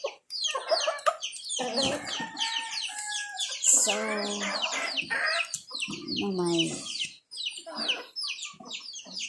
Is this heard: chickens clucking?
yes